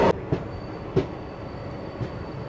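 The Dadar–Sawantwadi Tutari Express runs at speed through long tunnels, a dull enclosed rumble broken by four sharp rhythmic thumps of the wheels spaced under a second apart, close and without talk.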